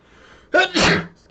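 A single close sneeze, a sharp intake followed by a loud burst, stands out briefly from a quiet room.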